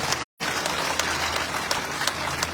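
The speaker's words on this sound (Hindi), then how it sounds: "पूनिया जी के लिए एक बार जोरदार तालियां बजा के आप इनका स्वागत करें।" A political rally crowd at a Scheduled Caste Congress convention in Rajgarh, Churu, breaks into loud, dense applause that keeps going, with a brief cut to silence near the start.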